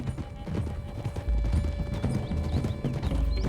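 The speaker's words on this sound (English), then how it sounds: "Can't you control that damn horse?" Horse hooves clip-clop steadily in Red Dead Redemption 2, a continuous rhythmic trotting over dense game ambience with wind and rumble.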